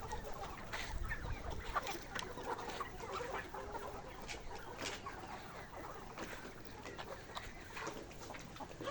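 Layer hens of the Kazi Highline breed, about 116 days old, cluck steadily at a poultry farm, with overlapping calls near and far over a constant busy background din.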